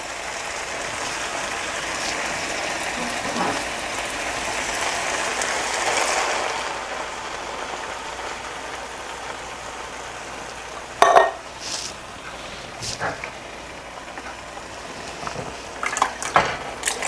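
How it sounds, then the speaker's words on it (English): Tomato sauce and tomatoes are poured into a pot of vegetables and soy crumbles for vegan chili, a loud, wet, steady glugging pour, then sharp clanks of a can or utensil against the pot, with no talk. "So we're going to add the tomato sauce and tomatoes."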